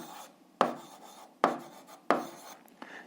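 Pen or chalk strokes writing out an algebra solution, three distinct scratchy bursts each fading out, followed by a short tap and another stroke, close and fairly quiet.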